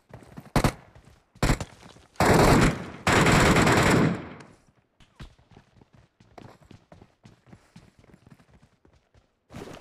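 Bursts of SCAR-L rifle fire in PUBG Metro Royale: two short sharp shots, then two longer loud sustained bursts, followed by scattered quieter clicks and footsteps-like taps.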